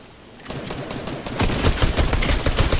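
Rapid pistol gunfire in a video game shooter, with crackling shots that start moderately loud and then grow denser and louder partway through, forming a near, continuous volley.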